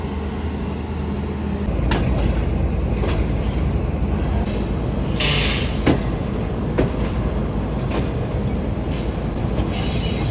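A Green Line passenger train pulls out of Khanewal Junction on the Lahore to Karachi route, with a constant loud rumble, scattered clacks and a brief squeal partway through.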